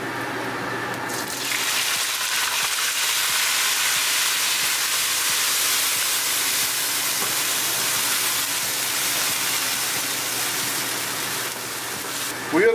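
Cumin seeds and onion hit hot oil with a loud, sustained hissing sizzle that holds steady for several seconds before easing slightly, with a faint stir or knock near the end.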